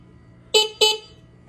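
Two short, bright toots from the horn of a Honda XR650R dual sport motorcycle, close and loud, separated by a brief gap over a faint idle hum.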